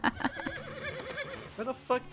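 A horse whinnies in the RedM Red Dead roleplay game, a couple of bright neighs near the start and again at the end, mixed with a voice talking throughout.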